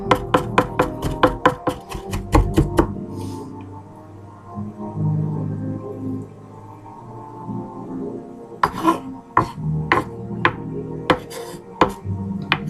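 A knife chops onions on a cutting board with a fast run of sharp, even taps, a pause filled with a low hum, then a looser series of chops.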